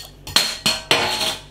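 A 500ml bottle of Marston's Oak Aged No2 Horninglow Street imperial stout is opened, with three sharp metallic clicks and brief hissing tails close together, near and loud.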